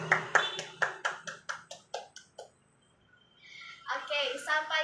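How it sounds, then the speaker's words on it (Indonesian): A group claps in a quick, even rhythm of about a dozen sharp claps that fade off. After a short pause, voices start talking. "Tepuk tangan dulu dong buat kita semuanya"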